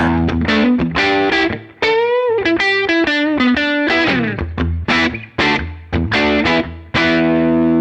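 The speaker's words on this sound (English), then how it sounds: "Go to the next setting and it's a nice round," A 1986 PRS Custom electric guitar with a warm, round, full-bodied tone plays a melodic phrase of chords and sliding notes, close-up and loud, no talking.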